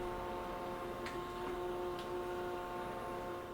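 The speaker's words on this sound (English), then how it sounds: "So you don't want these motors to be super loud when they're rolling up or closing" A SmartWings smart blind motor rolls the shade with a quiet, steady electric whir, and two faint ticks sound along the way.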